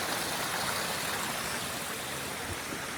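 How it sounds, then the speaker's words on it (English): A creek on Mount Hood's Timberline Trail rushes steadily and close by, a dense, unbroken wash of flowing water with no voices over it. "We are crossing a creek here."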